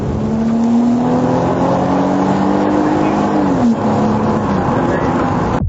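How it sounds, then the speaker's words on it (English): A 5-ton U.S. Army military cargo truck roars steadily during a pursuit, its engine droning loud and close with a rising then falling pitch, accompanied by constant wind and road noise throughout. "The vehicle deputies are following is a 5-ton military cargo truck originally built for the U.S. Army"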